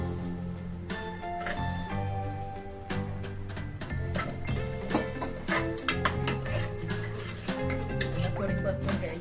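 Potatoes are added to a pan for a thin Malvani-style potato curry and sautéed, with clinking and scraping of a spoon against metal over a light sizzle and background music.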